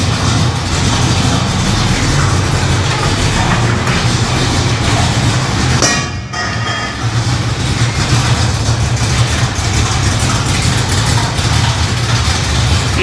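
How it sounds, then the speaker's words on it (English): A supercharged 1955 Chevrolet Nomad engine idles loudly and steadily on its first firing, with a rough, rattling exhaust clatter from a loose exhaust throughout and a short dip midway. "The exhaust is banging around a little, making a bit of a clatter"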